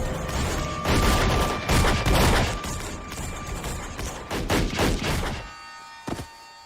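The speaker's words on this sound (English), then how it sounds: "Which is quickly ended by 45 9mm bullets." A sustained volley of 9mm gunfire in the horror film Cabin Fever, loud dense shots pounding for several seconds, thinning into a few scattered bursts before one last isolated shot.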